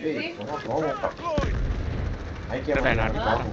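Gunfire in the video game Delta Force on a dam map, with a sniper rifle in use: a sharp shot is followed by sustained rumbling battle noise and further booms, while players talk over it throughout.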